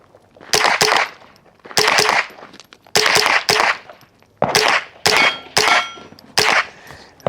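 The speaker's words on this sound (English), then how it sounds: "hitting the steel target is louder than the can itself" Suppressed .22LR rifle shots fired through a Shadow Silencers DUO DUO suppressor, each muffled pop followed by a ringing clang off a steel target, in about ten evenly spaced pairs and singles.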